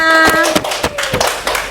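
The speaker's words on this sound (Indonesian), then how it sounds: "Tepuk tangan semuanya" Classroom of students clapping together at a teacher's call, a burst of hand claps close by with a voice over the first part.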